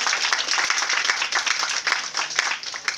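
An audience at a book signing for a biography applauds the guests, giving dense, steady clapping from many hands that carries on without a break.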